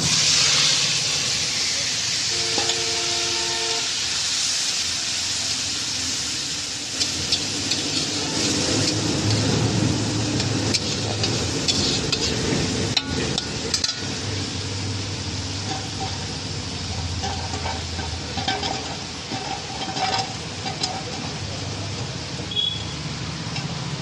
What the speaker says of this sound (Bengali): এবার এই মাখা মাছটা এর মধ্যে দিয়ে দেবো